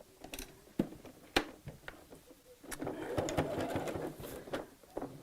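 A sewing machine stitches a woven fabric cushion cover, its rapid needle clatter starting in short bursts and then running steadily and faintly, with a few sharp clicks.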